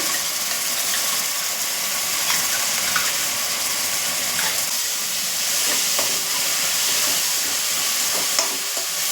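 Onion with ginger-garlic paste frying in a pan for chicken fried rice, a steady close sizzle and hiss with occasional stirring scrapes throughout, no talk.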